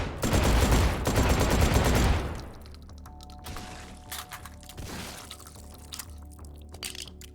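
Shotgun fire in the VR game Hot Dogs, Horseshoes & Hand Grenades, a dense, loud burst of repeated blasts for two seconds, then quieter scattered clicks, clatters and rings of handling.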